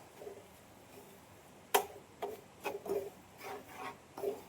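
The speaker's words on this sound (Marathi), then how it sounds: "रवा शिरा हलवत राहायचं हे बघा असं हलवत राहायचं" Semolina halwa (rava sheera) stirred in a pan, giving a few soft scraping strokes of a spoon against the pan bottom at irregular intervals, faint and close with no talk.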